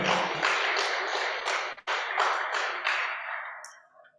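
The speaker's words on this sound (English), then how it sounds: "Please, a round of applause for one more time." Audience applause at a 2021 legislative-stakeholder forum in Nigeria, a dense steady clapping for about four seconds that dips briefly, then tapers off.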